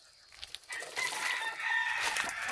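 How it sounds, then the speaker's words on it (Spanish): Chickens and young chicks cluck and chirp close by on a farm, a quiet start giving way to a dense, continuous chorus of squawks and peeps. "Este es un pollito."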